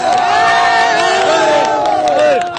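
A large crowd at a Rahul Gandhi rally during the Bharat Jodo Nyay Yatra roars and cheers continuously, loud and close, with shouting voices and whoops rising over the din.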